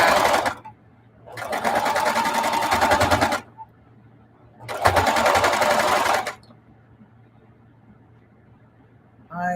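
A sewing machine with a walking foot stitches a quilt of black fabric in two long, loud, steady bursts of several seconds each, separated by quiet pauses, with a brief start of stitching at the very end.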